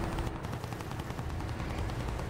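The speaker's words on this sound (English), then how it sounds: "But they are shooting." Enemy gunfire in the War Thunder video game: rapid machine-gun bursts rattle steadily at low volume over a constant engine drone, with no talking.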